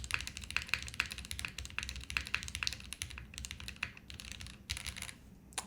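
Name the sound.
typing on Haven TKL keyboard with cap switches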